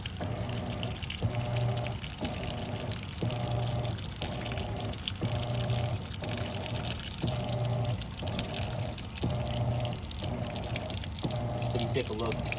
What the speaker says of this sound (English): we're letting water in